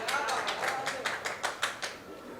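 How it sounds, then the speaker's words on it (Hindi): A few people in an audience at a fashion awards event clap in a short run of about eight distinct, evenly paced claps that fade out near the end. "ताली बजाओ।"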